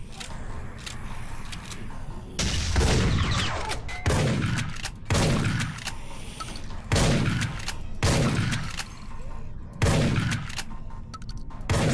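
Repeated bursts of gunfire from the first-person shooter game Dead Effect, heavy volleys landing every second or two across the span, loud and close with a dense rumbling tail.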